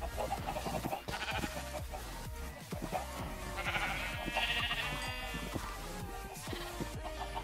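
Sheep bleat in Minecraft amid busy game sounds, several short repeated calls with a louder bleat near the middle, no talking.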